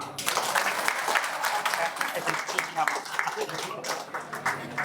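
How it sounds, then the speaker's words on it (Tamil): An audience applauds at a Tamil talk on Thiruppugazh, a lively burst of many hands clapping close by that holds steady for several seconds, with voices mixed in underneath. "கைதட்டுப்பா."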